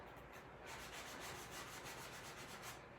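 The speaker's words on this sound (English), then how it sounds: "And then I would sand just down the middle." Close, steady sanding of the trimmed edges of mini tarot cards from the Radiant Wise Spirit deck: a continuous dry rasping rub with an even back-and-forth texture, heard alone with no talking.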